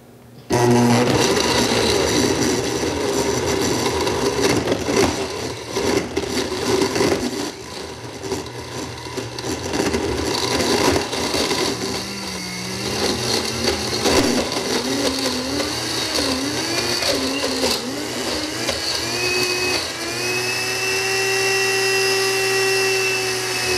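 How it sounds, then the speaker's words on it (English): A high-powered blender making dairy-free, gluten-free ice cream runs loud and steady on high, roaring and grinding continuously, with the motor pitch shifting slightly as the contents churn near the end. "all you do is blend it on high until it comes together"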